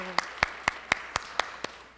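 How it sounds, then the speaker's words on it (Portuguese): Sparse applause at a solemn award session in a legislative chamber: about seven distinct, evenly spaced claps, close and clear, with a faint voice at the start. "Uma salva de palmas para ela"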